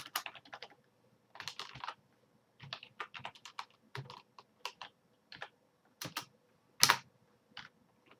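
Bursts of typing on a computer keyboard while coding a GW-BASIC game, close and clear, clattering in irregular clusters with short pauses between them, with no voices.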